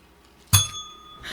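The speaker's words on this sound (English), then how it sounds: "Hit the bell." A single metallic bell strike, a sharp ding with a bright ringing tone that decays over about half a second, alone in a quiet room.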